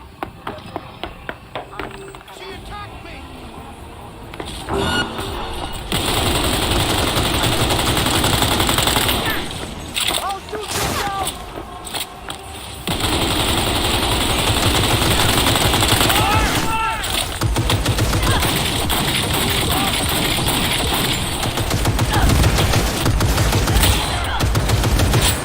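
Bursts of rapid machine-gun fire and scattered gunshots in Cyberpunk 2077 rattle loudly in long, dense volleys with brief pauses, mixed with a busy game soundtrack and occasional voices.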